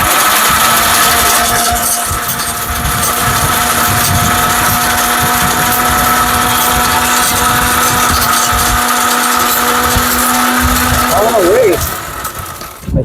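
A Panasonic blender grinds heavy stone into powder with a loud, steady high-pitched motor whine that holds throughout before slowing and winding down at the end.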